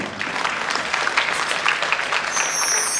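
Audience applause at a live music show, a dense, continuous wash of many hands clapping throughout, loud and fairly even with no voices on top.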